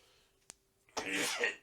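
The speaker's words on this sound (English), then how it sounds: "I just watched you sneeze again on camera." One fairly quiet sneeze at a tabletop role-playing game session, a short sharp intake followed by a breathy burst, heard over faint background hum.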